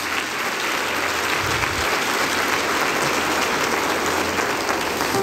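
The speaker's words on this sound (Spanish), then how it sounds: "pido un fuerte aplauso para ellos" Loud, sustained applause from a church congregation, many hands clapping in a dense, even roar throughout.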